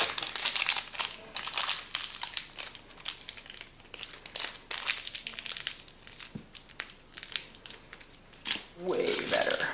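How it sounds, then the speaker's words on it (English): Sheets of wrapping paper crinkle and crumple in bursts as homemade cranberry toffee made with low bush cranberries is wrapped piece by piece, close and fairly busy, with a voice speaking intermittently. "Is this paper going to be big enough?"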